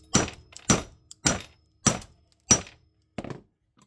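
Hammer blows doming copper caps in a dapping block, six sharp metallic thunks spaced roughly half a second apart, close and loud with brief ringing decay, no talk.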